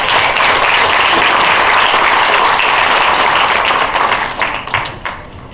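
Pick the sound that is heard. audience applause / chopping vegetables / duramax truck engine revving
audience applause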